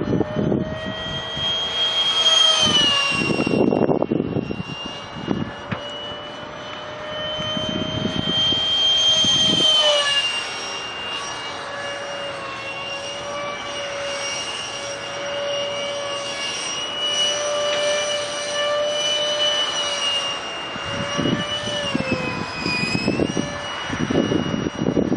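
A 70mm electric ducted fan jet on a stealth-style drone whines steadily and loudly during thrust vector testing, its high pitch rising and falling with throttle changes over a continuous roar.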